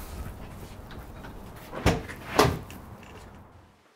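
An unlocked door swings open in a dark house, with two sharp knocks or thuds close together near the middle over a low hiss, then fading quiet; no one speaks.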